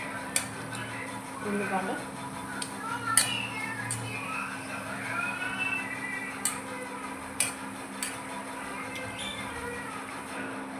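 Onion bondas deep-fry in hot oil, a continuous low sizzle and bubbling under a person speaking, broken by occasional sharp clinks of a utensil against the pan.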